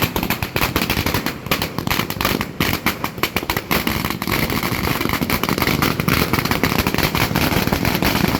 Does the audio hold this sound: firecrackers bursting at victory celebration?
yes